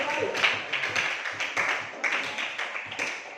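A grade 8 class claps together in a quick patterned rhythm, several crisp bursts of hand claps following one another close by over about three seconds.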